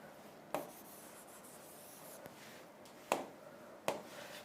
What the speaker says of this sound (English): we can erase some part